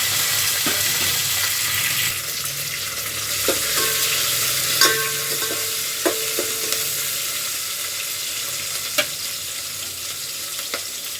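Mustard seeds and cumin sizzle in oil for upma, a loud close hiss broken by sharp pops and stirring clatter, with no talking.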